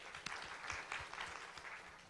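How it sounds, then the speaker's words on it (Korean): Faint, steady applause from an audience at a Korean venture startup forum, a dense patter of many hands clapping at a distance for about two seconds with no voices over it. "박수로 모실게요"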